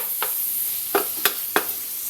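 Milkfish and a little pork sauté in a hot pan, a soft steady sizzle broken by a few sharp stirring scrapes, close and fairly quiet with no talking.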